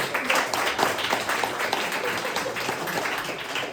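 A comedy club crowd applauds a comedian at a French stand-up show, steady, fairly close clapping that fills the room for a few seconds without pause.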